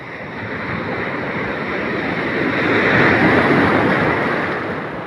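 Large ocean waves surge and wash steadily around a small outrigger boat at sea, a continuous loud roar of water and wind swelling slightly toward the middle.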